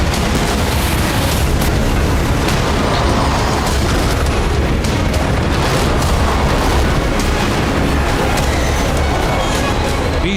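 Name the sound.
missile and explosive drone attack on Saudi oil refinery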